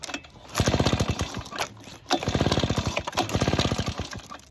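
A Poulan PR46BT gas leaf blower's two-stroke engine revs up under throttle in two strong bursts, dipping to a rough idle between, loud and close with a buzzy, pulsing rattle.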